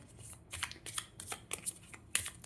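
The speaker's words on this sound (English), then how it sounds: "Let me shuffle." Tarot cards riffle and slap together in quick, soft bursts, a close, quiet shuffle repeated several times with short pauses between.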